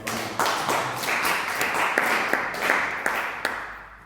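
A church congregation claps together in acclaim of the Lord, a dense, fairly close burst of many hands that keeps a steady rhythm of accented beats for several seconds before tapering off.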